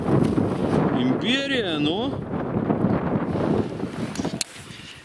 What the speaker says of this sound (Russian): спрячусь от ветра